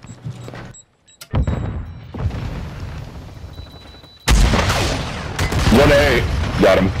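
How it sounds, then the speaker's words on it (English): Explosions and gunfire in Call of Duty Modern Warfare 2 (2022) Search and Destroy, starting with scattered shots and a deep rumble, then a loud blast that stays as heavy booming and crackling. "Oh my god, all them explosions"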